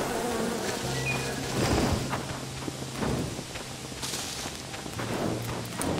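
Bees in the video game Len's Island buzz in a close, wavering drone, with soft thuds and rustling footsteps from the player moving through the game world beneath them.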